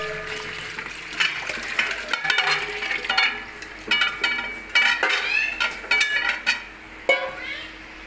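Water splashes and pours over drained, soaked potatoes being rinsed for biryani, with bursts of sloshing and trickling, clinks against a metal pot, and a quiet voice talking underneath.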